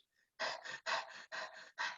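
A sheepdog pants heavily and close up, four quick rhythmic bursts of breath, each a double huff, with no talking.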